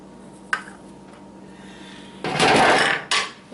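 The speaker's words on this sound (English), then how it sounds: "Oops, the sheet took a dive." A metal baking sheet clatters down in a home kitchen while baking a red velvet cake, a loud sudden crash with a short rattling tail, after a small knock earlier.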